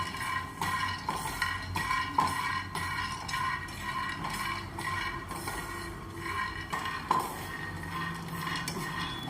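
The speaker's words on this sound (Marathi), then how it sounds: "इथे मी शेंगदाणे घेते अर्धी वाटी, हे आपण भाजून घेऊया" Half a bowl of peanuts dry-roasting in a hot pan for a brinjal and potato curry, with steady scraping and frequent metallic clinks of a spoon against the pan, continuous and close.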